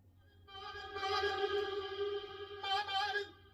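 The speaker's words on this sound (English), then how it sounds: "Got a little reverb going on in there as well" A chopped-up vocal sample with heavy reverb, sung tones cutting in and out in two phrases with a washy tail trailing after each.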